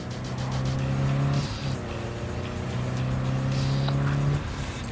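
A car in Cyberpunk 2077 drives with a steady engine drone, pitch climbing and dipping as it shifts through revs, tires briefly squealing between surges; close and loud, no talking.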